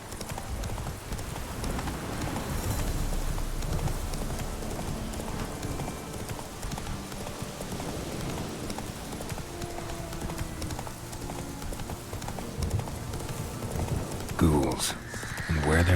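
Roach, the Witcher 3 horse, keeps up a continuous rhythmic clatter of hoofbeats under ambient game music, with a short burst of voices near the end.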